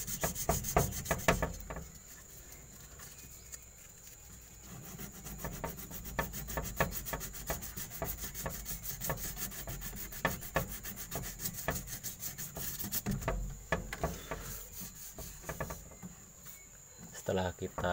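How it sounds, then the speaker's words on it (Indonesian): Sandpaper rubs rhythmically across an aluminium refrigerator evaporator punctured by a knife, levelling its surface. The repeated scratchy strokes are close and steady, with brief pauses, for the whole stretch. "langkah pertama kita amplas dulu sampai benar-benar rata permukaannya"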